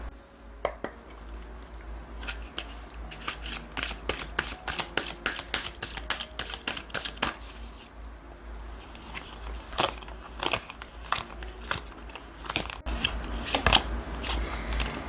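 Tarot cards handled and laid out on a table: quick runs of crisp riffling and snapping card shuffles, then scattered soft slaps and slides as cards are placed, close and fairly quiet.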